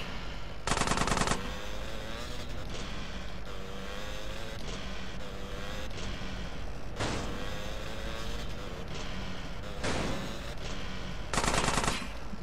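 Gunfire in Grand Theft Auto: San Andreas, with rapid automatic bursts firing near the start, middle and end over a constant rumble of traffic and engine noise, and no talk.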